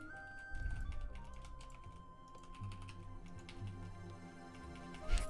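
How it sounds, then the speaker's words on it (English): Typing on a computer keyboard during a World of Warcraft session, a quick irregular patter of clicks under steady game music tones, fairly quiet, no voice. "So, typing's hard."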